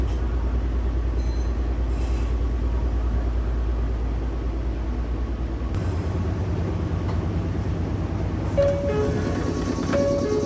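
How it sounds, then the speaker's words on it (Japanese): Meitetsu train pulling into Meitetsu Ichinomiya station, heard from on board as a continuous low rumble of wheels and motors with faint squeals and tonal whines, steady and close, no talking. "列車は無事名鉄一宮駅に到着しました。"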